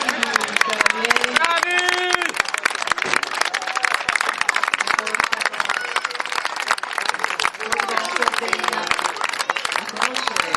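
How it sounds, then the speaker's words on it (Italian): A crowd at an equestrian horse-riding event in Oristano, Sardinia applauds the riders with steady, dense clapping, while an announcer keeps talking over the noise. "Un applauso a questi bravissimi cavalieri."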